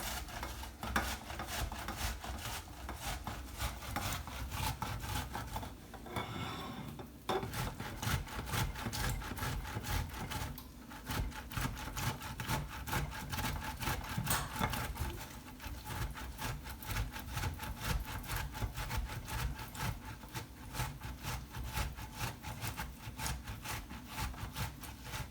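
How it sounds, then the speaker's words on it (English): A halved tomato is rubbed back and forth over the large holes of a box grater, making rhythmic rasping strokes, close and steady, with a brief pause partway through. "So I've got a box grater here. We'll go ahead and use the large grate."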